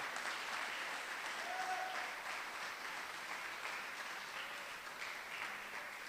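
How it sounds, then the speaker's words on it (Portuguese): A church congregation applauds with steady, dense clapping throughout, loud and even, with no talk over it. "aplauda o Senhor."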